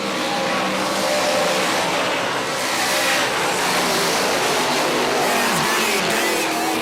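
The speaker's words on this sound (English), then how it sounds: "Just 12 cars still running on the racetrack." A pack of race cars roars around an oval racetrack, a loud continuous wash of engine noise with passing cars surging and fading and faint tire squeal, heard from a distance across the track.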